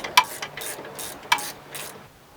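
A socket ratchet working an old, crusty bolt free on a Mazda Miata NB's upper control arm mount, giving a few quick close clicking bursts with short pauses between.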